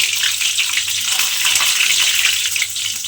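Curry leaves dropped into hot oil crackle and hiss loudly in a dense, bubbling sizzle, up close and unbroken, with no voices.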